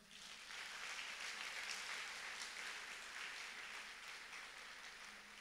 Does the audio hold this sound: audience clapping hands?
yes